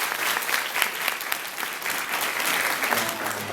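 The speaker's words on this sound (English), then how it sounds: "Round of applause." Audience at an A-Kon 2014 anime convention panel bursts into sustained applause, a dense wash of clapping that holds steady and loud for several seconds with no one talking over it.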